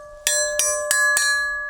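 A hardened steel plough share rings out when struck, four sharp metallic strikes spaced roughly a third of a second apart, each leaving a bright, sustained bell-like tone that hangs on between hits.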